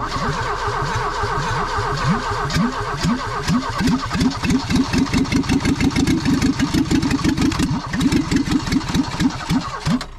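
A Vauxhall Nova left abandoned for 17 years cranks and fires, its engine chugging loudly in a fast, uneven rhythm throughout.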